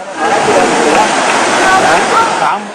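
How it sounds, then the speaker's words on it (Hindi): Floodwater torrent rushing through Kunda village in Banaskantha district, Gujarat, with half-submerged houses: a loud, continuous broadband roar of fast-moving water, steady throughout, with faint voices or babble mixed in. "पानी का वेग ऐसा मानो तेज दरिया बह रहा हो"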